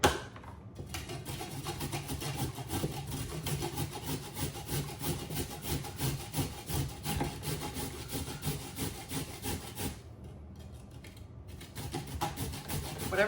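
Vegetables scraped over a hand grater while preparing gluten-free dinners, a fast continuous rasping with repeated strokes, fairly quiet and close, pausing briefly near the end.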